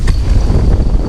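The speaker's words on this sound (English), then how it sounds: "that was a gust of wind." A strong gust of wind buffets the microphone on a lakeshore during a carp fishing trip, a loud, steady low roar filling the moment with no voices.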